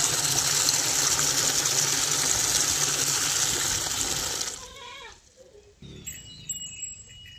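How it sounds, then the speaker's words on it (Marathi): Water gushing loudly and steadily into a container for several seconds, then cutting off abruptly, followed by faint clatter and small handling sounds. "जरा पाणी लावून घेते."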